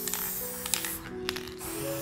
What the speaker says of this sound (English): I'm gonna go ahead and spray about 10 to 12 inches away.